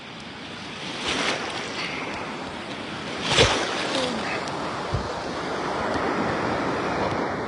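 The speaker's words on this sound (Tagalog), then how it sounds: "Ang laki na ng alon, sobra." Big ocean waves, taller than a person, crash and surge on a beach shore with loud broad roaring washes and a few sharper breaking bursts, mixed with wind buffeting the microphone.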